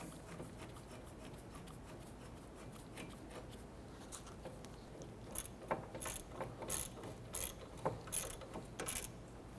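A ratchet snugs down the brake bolts on a 2006–2013 Chevy Impala during a rear rotor and pad job, a low mechanical hum turning into quick bursts of sharp clicking, close and fairly quiet.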